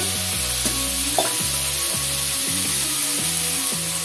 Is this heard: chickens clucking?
no